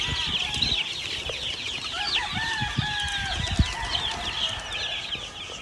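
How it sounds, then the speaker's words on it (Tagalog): Flock of more than 400 gamefowl chickens on a farm, clucking and calling continuously at moderate distance with occasional sharper crows and bird chirps, no talk. "More than 400 chickens."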